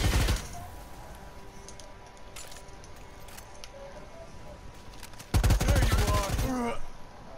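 Minigun fire in a video game, first a short burst at the start, then a sustained loud rapid roar of continuous fire for about two seconds near the end, with quieter clicks and game sounds in between.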